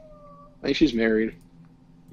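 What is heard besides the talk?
cat meowing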